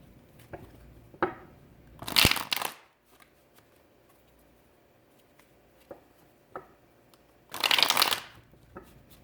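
A tarot card deck is handled and shuffled close up in two loud crisp riffling bursts, with quieter taps and card handling between them and no talking.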